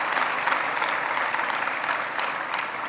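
Steady applause from an audience at an annual alumni meet, a dense continuous clapping that holds at an even level throughout with no voices over it.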